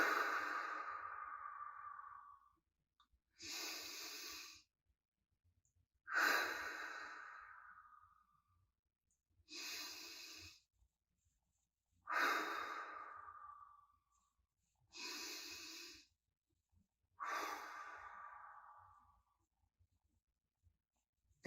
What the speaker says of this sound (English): You can inhale and hold for 4, and exhale and hold for 4.